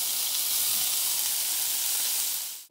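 Ham frying in a pan with onion and garlic, giving a steady, close sizzling hiss that holds evenly for a few seconds before cutting off.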